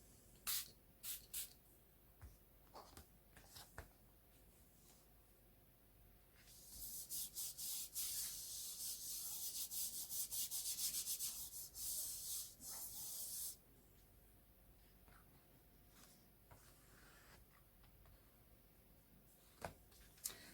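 A spray bottle mists water onto card in a sustained hissing burst of about seven seconds, with a few faint taps and rubbing sounds before and after.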